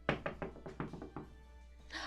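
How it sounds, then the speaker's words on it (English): A run of about eight sharp knocks on a door, close and evenly spaced, thudding clearly then tapering off, with no talking over them. "Just right then, you hear a knock on the door."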